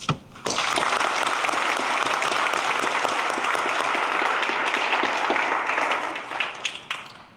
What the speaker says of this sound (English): please take this moment to give yourself a round of applause